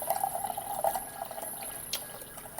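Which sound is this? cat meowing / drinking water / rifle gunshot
drinking water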